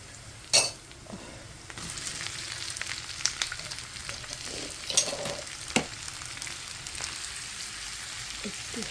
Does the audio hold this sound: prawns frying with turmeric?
yes